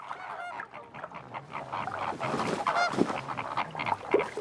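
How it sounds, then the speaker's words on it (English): A flock of flamingos calls in a Spanish wetland in spring, a dense, continuous chorus of nasal, goose-like honks and grunts overlapping at close to middle distance. "Flamingos brood more successfully when they can raise their offspring all at the same time."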